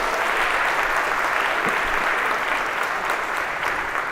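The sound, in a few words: audience applause for volunteers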